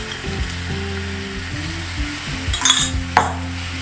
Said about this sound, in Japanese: ここの部分を少し火に当ててブクブクとさせます